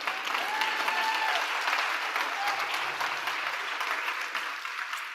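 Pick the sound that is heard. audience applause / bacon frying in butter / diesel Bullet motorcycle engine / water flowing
audience applause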